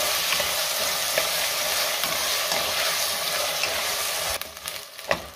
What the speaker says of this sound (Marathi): आता ही भाजी आपण चांगली 1 मिनिटभर परतून घेऊया